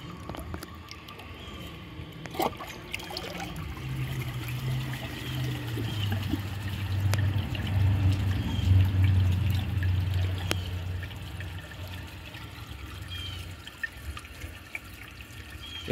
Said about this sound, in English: It tried to take it very early on in the flush, hard clogged.